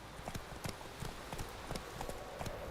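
Roach, a horse in The Witcher 3 video game, trots with a steady rhythmic clip-clop of hooves, evenly spaced and fairly quiet against a soft background, with no talking.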